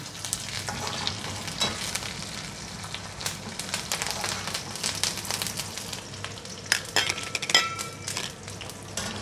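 Cumin seeds sizzle and crackle in hot oil, a continuous frying hiss dotted with sharp pops, with occasional clinks of a utensil against the pan.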